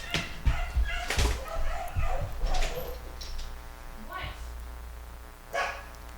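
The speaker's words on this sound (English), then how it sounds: "the dogs just kind of, every once in a while, go off like that" Dogs barking in short loud bursts indoors, several sharp barks clustered early and a few more later, mixed with people talking nearby.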